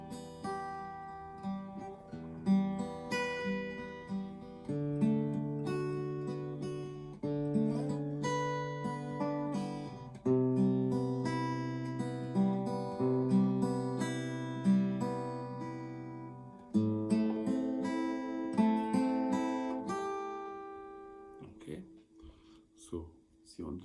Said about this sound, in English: but you're just expanding the chords further up the neck